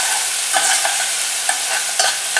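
Chopped onion frying in ghee with urad and channa dal: a loud, close, constant sizzle with repeated soft scrapes and taps of a stirring spoon.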